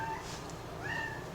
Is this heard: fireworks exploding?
no